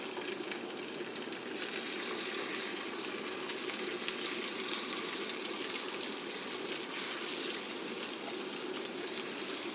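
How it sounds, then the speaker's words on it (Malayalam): Sardines fry in a pan of hot oil at home, giving a continuous dense sizzle with fine crackling throughout, moderately loud and close, with no talking. "ഇനി നമുക്ക് മീൻ ഇട്ട് കൊടുക്കാം. ഇങ്ങനെ ഓരോന്നായിട്ടൊന്ന് നിരത്തി കൊടുക്കുക."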